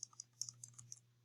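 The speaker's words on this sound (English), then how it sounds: "we're just going to start typing" Quick, light keystrokes on a computer keyboard tap out an irregular run of about a dozen clicks over a faint low hum, close and quiet, with no voices.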